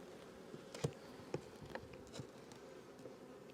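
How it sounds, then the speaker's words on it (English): Honeybees buzz faintly around a beehive being readied for winter, a quiet, low drone broken by a few soft knocks and taps. "I don't want the bees coming in and out of it this time of year."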